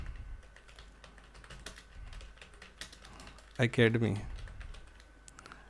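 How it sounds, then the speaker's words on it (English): Steady typing on a computer keyboard while entering text into a Microsoft Access table: rapid, close key clicks throughout, with a short spoken phrase briefly breaking in partway. "as like I will type here Vidyarthi Sangam"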